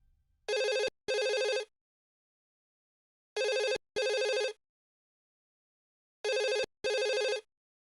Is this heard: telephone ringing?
yes